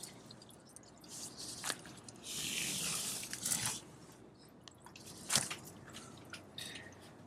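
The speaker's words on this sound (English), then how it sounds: "Help lift the hose to drain it. Close the valve, drain the hose some more." Water drains from the hose of an Airstream trailer's waste outlet, giving wet squishing gurgles and a few sharp splashy drips that come and go at close range, fairly quiet overall.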